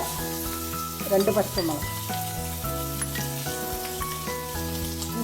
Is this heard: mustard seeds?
yes